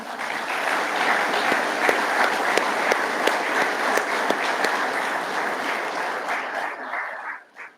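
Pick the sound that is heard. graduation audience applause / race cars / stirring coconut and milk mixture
graduation audience applause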